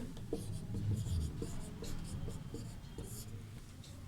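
Pen or chalk scratching steadily in handwriting during a Sanskrit grammar lesson, soft continuous strokes heard up close beneath faint background voice.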